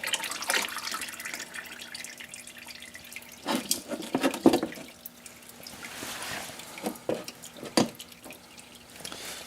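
Fluid trickling and dripping from the removed filter of a 2500 HR 110TLB tractor during servicing, a steady close-up drip with a few louder splashes and clinks.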